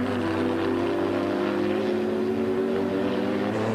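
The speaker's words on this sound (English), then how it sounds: "here is Enzo Calderari in action in their Stadler Porsche" A Stadler Porsche GT race car in the 1995 BPR Global GT Series at Linas-Montlhéry, its engine a loud, steady droning roar that holds throughout with no talking.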